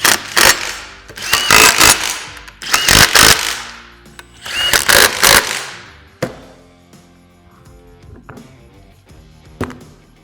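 Power tool bursts tightening the bolts of a SuperATV winch mount on a Polaris RZR XP, four loud rattling runs in the first six seconds, then quieter clinking of hardware.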